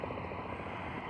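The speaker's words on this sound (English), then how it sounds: "What are you doing, helicopter?" A helicopter flying overhead gives a steady, broad rumbling drone with a soft rotor flutter, moderately faint and distant, continuous throughout the short moment.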